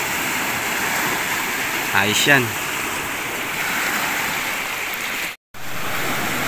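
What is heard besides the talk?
strong waves on the water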